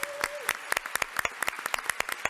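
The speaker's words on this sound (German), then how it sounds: "Bitte nochmal wirklich einen ganz, ganz herzlichen Applaus für Serge und Beate Klaasfeld." Scattered audience applause at a German-language assembly opening, a sparse irregular run of sharp individual claps from a modest crowd, fairly close and steady throughout without voices.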